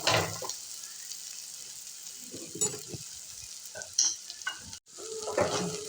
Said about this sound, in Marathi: छान असं मिक्स करून घेऊयात परतून.